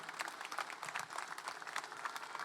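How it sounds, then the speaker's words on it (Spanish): A crowd at a general strike rally applauds, steady dense clapping at moderate distance with a faint crowd murmur underneath and no clear speech. "Fuerte aplauso de la clase trabajadora para estos grandes hombres"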